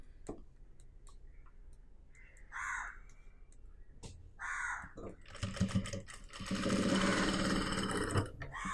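A sewing machine stitching churidar fabric, a fast close mechanical rattle of needle strokes that starts and stops in short bursts, followed by a longer sustained run, with faint clicks between and no talk.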